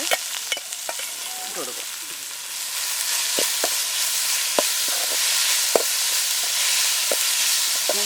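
Squeezed mushrooms hit a hot pan with curry leaves and crackle in a steady bright sizzle, broken by sharp pops and the scrape of stirring, while someone briefly talks over the frying.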